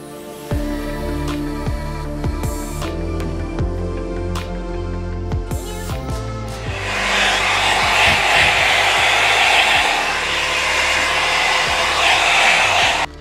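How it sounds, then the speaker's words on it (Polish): An 800-watt hair dryer runs in a campervan bathroom, switched on for a steady whooshing blow that grows louder and breathier partway through, preceded by some brief clatter and tonal sounds. "Suszarka w wanie, super sprawa."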